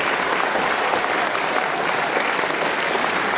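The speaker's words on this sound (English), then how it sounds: "Keep the applause going for the wonderful volunteers" A charity evening audience applauds steadily and loudly, a dense wash of clapping from many hands that holds level throughout, with no talk over it.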